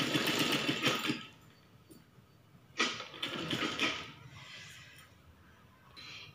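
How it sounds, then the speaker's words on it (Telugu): A sewing machine stitches lace onto a blouse in short close bursts of rapid whirring, pausing between runs with little talk. "ఈ విధంగా కుట్టుకోవాలి."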